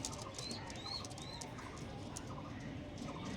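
Freshly released pigeons, including a male, give soft, faint coos with a few light chirps over a low background murmur, heard briefly and at some distance.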